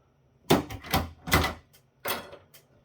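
Side cutters snip through wires inside a Qlogic SANbox 5600 16-port fibre channel switch during a teardown, giving four sharp, close clicks spaced unevenly over a couple of seconds.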